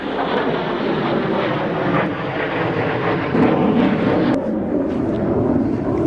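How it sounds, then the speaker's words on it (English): A loud, steady military jet engine roar fills the air throughout over a golf course near an airbase, swelling slightly partway through as the aircraft passes overhead, with wind rumble underneath. "I love coming out here when the jets are flying over."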